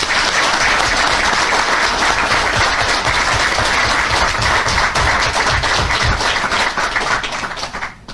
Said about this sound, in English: I would kindly request that we give him a round of applause.